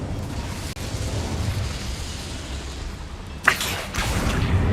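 A fire spell cast in the video game Hogwarts Legacy, a sudden whooshing burst of flame over a constant low game rumble, loud and near, with the blaze sustaining briefly afterward.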